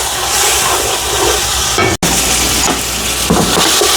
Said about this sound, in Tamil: இஞ்சிங்க நல்லா வதங்கி நல்லா வரட்டும்